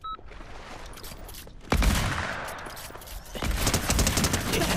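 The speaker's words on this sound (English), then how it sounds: "You have the minigun." Rapid minigun fire in the Fortnite video game, dense sustained bursts that swell louder partway through and continue alone without talk.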